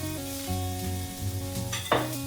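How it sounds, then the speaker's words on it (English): Half an onion sautéing in hot oil for meatloaf, a steady sizzle under tonal background hum, with a brief sharper clatter near the end as the pan is stirred. "I'm going to saute about a half of an onion here."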